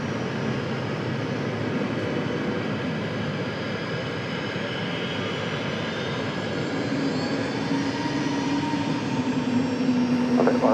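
A plane departs from runway 23 Left at Raleigh-Durham International Airport, a broad distant engine roar that builds slowly and steadily with a rising whine toward the end.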